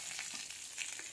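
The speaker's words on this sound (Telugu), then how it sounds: "ఆయిల్ హీట్ అవగానే తాలింపు వేసేసాను." Tempering spices fry in hot oil for a peanut chutney in a home kitchen, a soft, even crackling sizzle that runs steadily and fairly quietly with no voices.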